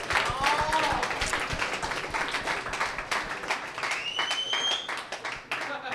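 Audience applause at a comedy show after-party, steady clapping from a crowd with shouts and voices over it, fairly loud and continuous for about six seconds.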